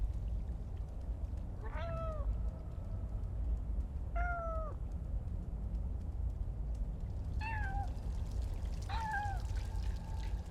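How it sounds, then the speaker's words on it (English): Cat meows in the video game Stray, four separate calls spaced a few seconds apart over a steady low background hum, fairly quiet and with no talking. "The meow sounds a little stronger."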